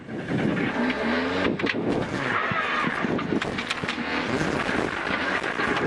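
A rally car runs wide on a left turn and strikes the verge. Its engine roars loudly throughout, with a rough scraping, buffeting texture and wind noise close to the microphone.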